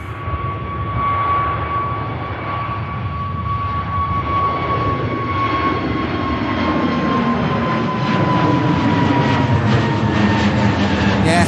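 A British Airways jet airliner takes off at Manchester Airport, its engines roaring steadily and loud throughout, with a sustained whine riding over the broad rumble and building slightly toward the end.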